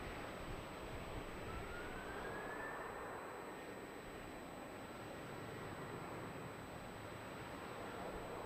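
An airplane takes off from runway 34 at Melbourne Airport, its jet engines roaring as a broad, steady rumble that fills the air at a moderate distance, with a faint rising whine early on and no voices.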